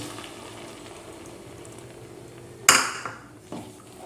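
Ground poppy seed and cashew paste drops into a hot pan of oil while cooking katla fish posto, giving a sudden loud sizzle that fades over a second, then a second smaller hiss and clink of a utensil.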